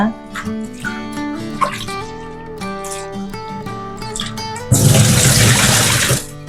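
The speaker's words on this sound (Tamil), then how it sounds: "இப்போ தண்ணி விட்டு நல்லா 2-3 அலசு அலசிக்கிறேன் நான்." Sardine fish are rinsed in water in a kitchen. Music plays first, then a loud burst of splashing, rushing water takes over for the last couple of seconds.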